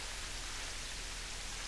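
Steady, even rain hiss from the video game Terraria, a constant broadband wash with no breaks, no music and no talk over it.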